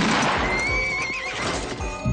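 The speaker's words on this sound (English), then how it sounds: "And a good horse." In a 1990 western film, a horse whinnies loudly and close, its neigh rising and wavering, while hooves clip-clop in a steady rhythm underneath.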